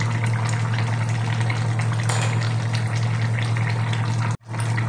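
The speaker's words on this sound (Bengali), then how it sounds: "তো ধনে পাতাটা দিয়ে 1 মিনিট ফুটিয়ে আমি নামিয়ে নেব" A kohlrabi curry with chopped coriander leaves simmers in a pot, giving a continuous bubbling wash over a steady low hum that cuts out briefly near the end.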